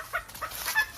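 Exotic-breed chickens cluck inside a 1,000-square-foot poultry farm shed, a few short, fairly close clucks in quick irregular succession.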